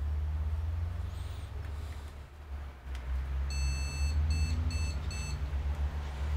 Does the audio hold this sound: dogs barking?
no